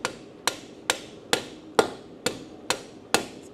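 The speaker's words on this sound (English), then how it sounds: "Hammer that thing" A blacksmith hammers metal clamped in a vise, striking eight sharp, evenly spaced metallic blows about half a second apart, close and clear with no talk.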